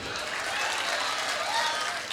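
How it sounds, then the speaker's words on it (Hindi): Audience applause at an All India Mushaira poetry gathering in Nanded, a steady dense wash of many hands clapping throughout, moderately distant, with faint crowd murmur beneath. "तो तालियां बजा दोस्तों।"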